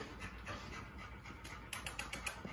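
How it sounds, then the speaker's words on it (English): Fluffy puppies pant softly nearby, a quick run of airy breaths that grows a little stronger toward the end over faint background noise. "Oh, it's the puppies."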